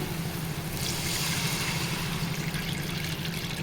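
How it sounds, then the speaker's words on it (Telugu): Tamarind broth for a Telugu bocha (rohu) fish curry pours in a steady, continuous liquid stream, close and moderately loud, with no talking. "ఇప్పుడు పులుసు పోసుకోవాలండి"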